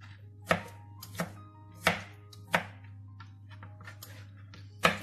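A knife chops a peeled tomato into small pieces on a board, giving six sharp, distinct knocks spaced about two-thirds of a second apart, close and clear with no talking.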